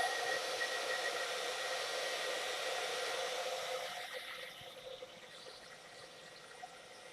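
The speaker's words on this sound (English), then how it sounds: "Now I am going to blow dry this just a little tiny bit, okay, because it's kind of thick, so kind of on a soft setting." A hair dryer on a soft setting blows steadily over a thick watercolor ground, a close, continuous whoosh that eases down partway through and keeps running quieter to the end.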